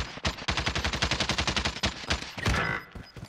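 Rapid automatic gunfire in Call of Duty: Modern Warfare, a dense run of sharp close shots in quick rhythm for about two seconds, then a brief louder burst and fading echo.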